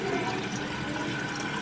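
Steady broadband rush of water pouring continuously, like a tap filling a pot, close and fairly loud with no pauses.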